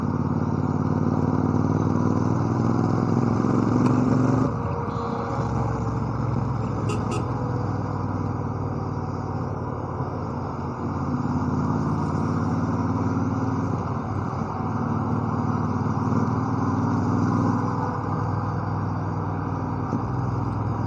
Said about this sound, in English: one downshift, 2 downshift.